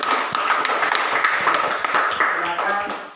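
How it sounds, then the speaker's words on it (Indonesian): A classroom of students applauds for a student group, a dense, steady burst of many hands clapping for about three seconds with scattered voices mixed in. "kita berikan tepuk tangan dulu untuk kelompok 4"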